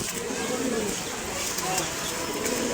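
Pigeons newly brought home from a market coo softly and continuously nearby, a low murmuring burble under a man's speech.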